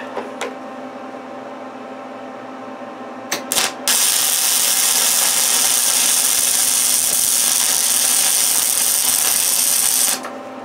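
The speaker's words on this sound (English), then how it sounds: "let's weld this side in" Electric welding on a steel solar panel pole for a remote cabin in the woods: a few brief arcs strike, then a steady loud crackling hiss runs for about six seconds before stopping.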